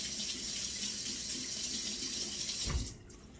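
A tap runs steadily into a sink as hands are washed, a close continuous splash that cuts off abruptly near the end, leaving quiet room tone.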